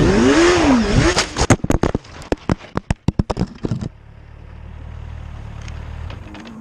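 A motorcycle crash: a rush of riding noise gives way to a burst of loud, sharp scraping and cracking impacts, then a quieter lingering rumble as things settle.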